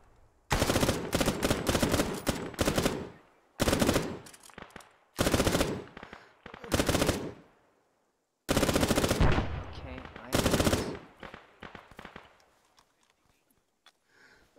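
Machine gun fire in Arma 3 during a WWII-era winter battle training scenario: about six loud, rapid bursts of automatic fire, each a few seconds long or shorter, separated by brief silent gaps, with no talk.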